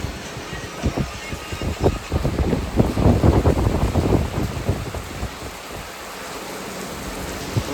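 Rain falls steadily in a village during a Gujarati rainy-season outing, a broad hiss with denser pattering bursts in the middle stretch before easing to a softer, even wash.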